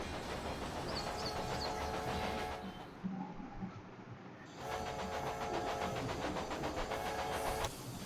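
A train rolls along its rails in the Railway Empire game, a steady rumble with rhythmic clicking and hiss that fades to quieter ambience midway, then returns just as loud.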